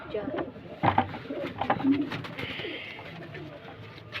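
A domestic pigeon from a flying pair coos in low, throaty bursts close by, mixed with people talking and some background noise.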